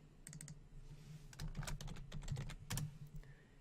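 Several quick keystrokes tap on a computer keyboard while renaming a layer in Illustrator CC, close and fairly quiet, with irregular clicks and brief pauses between bursts.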